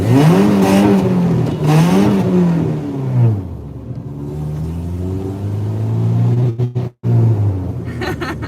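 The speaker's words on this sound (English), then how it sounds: "Rev it up." Engine of a drift truck revving hard while cruising: loud rising and falling pitch sweeps in repeated surges, then a lower sustained drone broken by a brief cut-out, with no talk.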